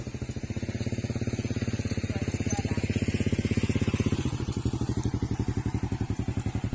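A motorcycle with a sidecar runs close by, its engine giving a steady, rapid, loud putter that holds throughout with a slight rise in the middle.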